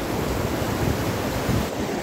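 The Khairna river flows steadily as a broad, continuous rush of water, fairly loud and unbroken, mixed with some wind buffeting the microphone and no talk.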